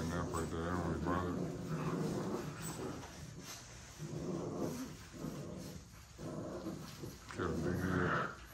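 Puppies in a litter growl and yip as they play, with rough, overlapping rumbles rising and falling in bursts throughout, close by, while someone talks over them.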